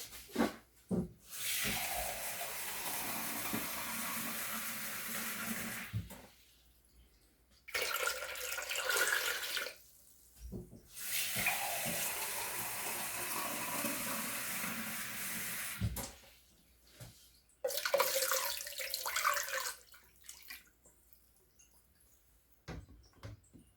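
Water pours and runs steadily over fish packed in jars for preserving, filling until the lids are covered, in several long bursts separated by short pauses.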